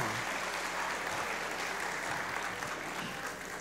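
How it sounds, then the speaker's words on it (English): Steady applause from a church congregation at a Thanksgiving service, dense and sustained throughout at moderate level, with no talk over it. "Big round of applause for my helpers."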